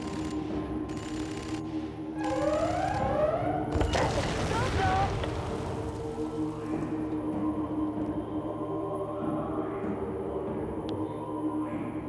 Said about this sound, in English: Let's fire that bomb